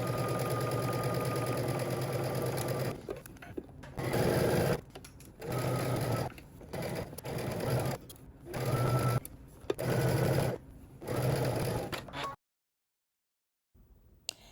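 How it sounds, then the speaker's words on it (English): A sewing machine runs in several bursts of rapid stitching around fabric, separated by short pauses, close and steady, ending in silence. "we can go ahead to the sewing machine and we're going to stitch all the way around"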